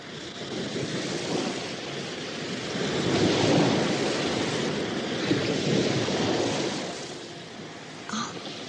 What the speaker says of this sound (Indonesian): Dari ombak yang kulihat berdebur besar dan keras, pastilah aku kini berada di pantai selatan